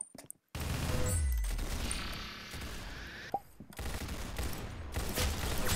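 Steady rapid gunfire in a Roblox Arsenal match, a dense continuous volley starting after a brief silence, with a short gap near three and a half seconds before shooting resumes; no talking.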